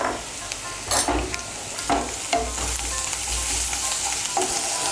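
Grated ginger frying in hot oil in a pan, a continuous sizzle with several sharp scraping stir strokes from a utensil, close and loud, no talking.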